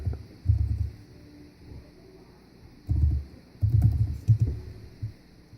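Short bursts of computer keyboard typing, close and fairly soft, separated by brief pauses, with no voices.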